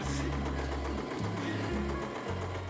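A sewing machine stitching around the edge of an apron, whirring loudly and close with a steady buzzing motor hum. Its pitch steps down and up in short stretches as the speed shifts, with no talking.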